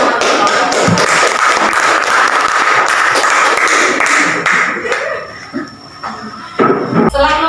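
Schoolchildren in a classroom clapping loudly and steadily for several seconds, then the applause thins into scattered claps, knocks and voices.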